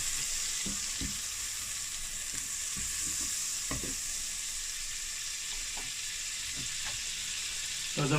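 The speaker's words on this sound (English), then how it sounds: "get your pan nice and hot and then we're going to add some butter" Butter sizzling in a hot pan for a venison ragu, a steady close broadband frying hiss throughout with scattered light scrapes and clicks.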